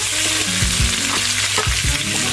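Small onions and curry leaves frying in hot oil, giving a steady close sizzle with several soft stirring thuds and scrapes.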